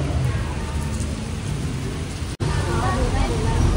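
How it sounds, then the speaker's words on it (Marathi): Heavy rain pours down outdoors with a loud, dense and steady hiss of drops, with a brief dropout partway through. "आणि पाऊस पडतोय जोरात."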